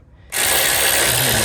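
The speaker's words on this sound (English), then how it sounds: "it's easy to cross thread when you're using a mechanical device like a driver like this" A ratchet driver spins a bolt on the battery of a 2014 Kia Sorento, a steady close, loud clicking of the pawl that starts abruptly and runs on continuously.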